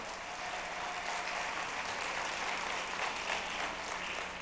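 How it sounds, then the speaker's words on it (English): A rally audience applauds veterans who are present, steady dense clapping filling the room at moderate volume with no voice over it. "How about a round of applause for the veterans who are here today?"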